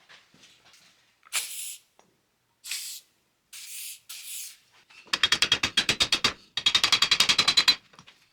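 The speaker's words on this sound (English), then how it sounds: "Put a little bit of WD-40 in there." WD-40 sprayed onto a 1956 VW steering box: several short hissing bursts, then two longer runs of rapid sputtering spray pulses, close and crisp with silence between.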